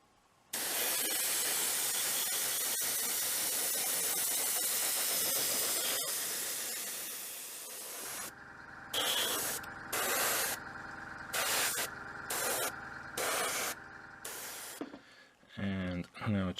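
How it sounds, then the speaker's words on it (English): Spray paint in dark grey is applied to a 1/72 Revell Type XXVIIB Seehund submarine model kit: one long, loud, continuous hiss, then several short, sharp bursts. "now we're going to spray this with dark grey"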